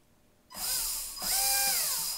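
A small electric motor in a 1/10-scale RC crawler spins up in two short bursts, each rising into a high, whirring whine with shifting tones, close and clear against a quiet background.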